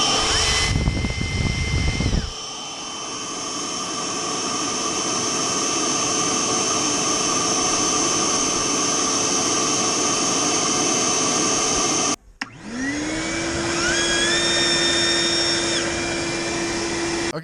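Ridgid and Harbor Freight Bauer wet/dry shop vacuums roar loudly and steadily, one cutting off briefly before the other spins up with a rising whine that settles into a sustained high-pitched drone.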